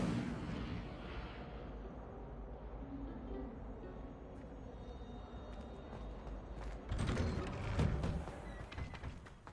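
Incendio fire spell cast in the Harry Potter: Trials of Merlin video game, a steady roaring rumble that swells into a louder crackling burst near the end.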